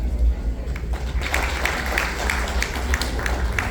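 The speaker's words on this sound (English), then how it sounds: "A big round of applause, everybody, for Malika and her mom, Pomri." Audience applause at a Mother's Day gala for a girl and her mother, a steady wash of many hands clapping that swells after the first second and carries on evenly, with some low rumble underneath.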